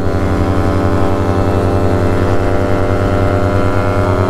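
A Yamaha RX135 two-stroke motorcycle cruises along an empty highway, its engine holding a steady, loud, buzzing drone with no speech over it.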